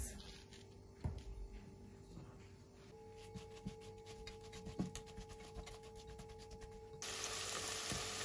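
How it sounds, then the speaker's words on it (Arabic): Onion frying in ghee in a pan on a gas stove, a steady sizzle with a few sharp knocks and scrapes, turning brighter and louder near the end. "وبقليهم على الغاز"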